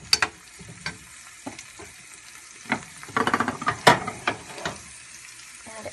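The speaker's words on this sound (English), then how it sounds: "I'm just going to give that a quick stir." Seafood for frutti di mare sizzles softly in a pan, broken by a series of clattering scrapes and knocks as a utensil stirs it, with louder bursts in the middle.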